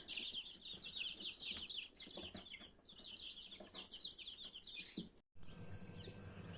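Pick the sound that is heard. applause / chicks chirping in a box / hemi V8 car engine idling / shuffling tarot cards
chicks chirping in a box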